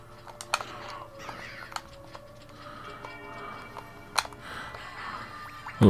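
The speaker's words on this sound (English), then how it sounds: "Hurt by the blue raven." A blue raven caws in Castlevania: Symphony of the Night, giving several sharp, scattered calls over steady game music with ticking and chiming tones.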